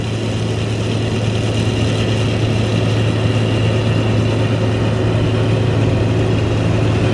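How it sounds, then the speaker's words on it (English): A Valmet six-cylinder diesel engine on a Massey Ferguson MF40 combine harvester runs at a steady, loud drone that holds unchanged throughout, with a strong low hum and no speech. "Just listen to that Valmet 6-cylinder. Oh, what a sweet sound."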